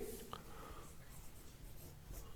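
Pen writing out a class 10 maths solution on surface area, faint scratchy strokes in short bursts, quiet and close.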